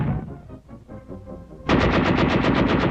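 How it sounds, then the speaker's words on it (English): Sustained WW2 machine gun fire covering an assault on a field fortification in Holland in 1940, starting abruptly after quieter rumble and continuing as a loud, rapid, evenly pulsing burst. "Under cover of machine gun fire, the field fortification is stormed."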